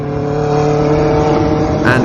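A car engine in a Roblox video game revs with a loud, steady buzzing drone of stacked tones that swells slightly toward the end.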